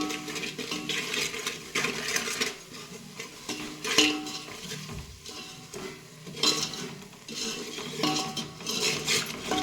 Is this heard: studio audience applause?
no